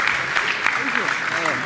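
Boxing crowd in Montreal cheering and clapping in a continuous roar during a pro bout, with a commentator's voice over the noise.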